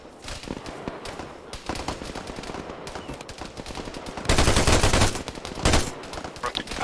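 Arma 3 infantry gunfire in a continuous crackle of rifle and machine-gun shots, with a heavier, louder burst of fire near the end and faint voices underneath.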